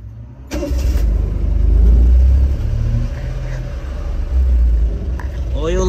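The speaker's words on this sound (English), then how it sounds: "let's see if the car even starts" A Honda Beat car engine cranks, catches and settles into a steady running rumble close to the microphone, with some voices in the background.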